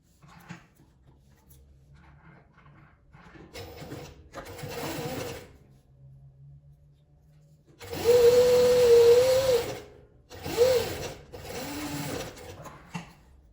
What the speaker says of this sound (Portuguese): Que eu vou costurar e ele depois eu monto.